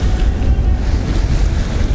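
Small waves from a passing skiff's wake slosh and slap against a sailboat's hull, a close, loud, churning wash of water mixed with gusting wind noise, with no break from start to finish.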